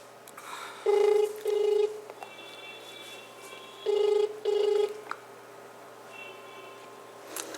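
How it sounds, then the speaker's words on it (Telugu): Outgoing telephone call ringing back: two pairs of steady ring tones about three seconds apart, fairly faint over a low hum, with no talk. "ఒకసారి మనం గోనెలప్ప గారికి ఫోన్ చేద్దాం."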